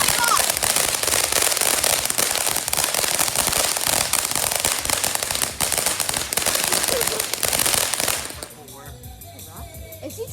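A fireworks show explodes in a dense, continuous barrage of loud crackling bursts and pops that fades toward the end, leaving quieter distant crackle.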